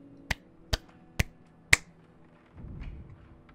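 Four sharp claps spaced evenly in a clapping game from the video game This War of Mine, crisp and close, followed by a soft low rumble.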